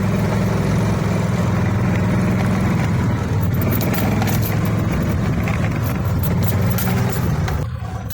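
A small golf cart motor running flat out at its top speed of about 8 miles an hour, a steady loud drone with a rough mechanical rumble throughout, easing slightly near the end.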